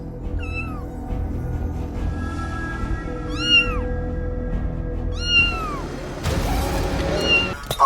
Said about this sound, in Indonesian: kucing ya? Ngapain dia di tengah jalan kayak gitu?